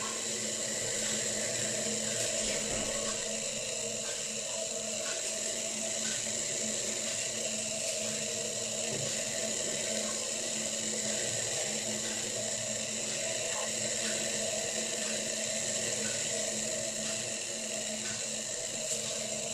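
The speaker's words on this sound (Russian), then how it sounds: "пузырьки уже идут от дна, мелкие, то есть вот-вот мы находимся на моменте закипания" Water heating toward a boil in a pot on an Esbit solid-fuel stove, a steady close hiss with faint fizzing from small bubbles rising off the bottom, continuous and even throughout.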